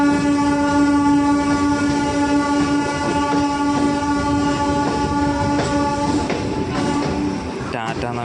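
An Ernakulam–Patna Express at a station holds a long, loud, steady horn blast that ends near the close, with rail and platform noise and faint voices beneath.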